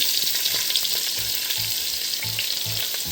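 Whole spices and onion frying in hot oil for chicken biryani, a loud, close, continuous sizzle with soft rhythmic stirring knocks underneath, no voices.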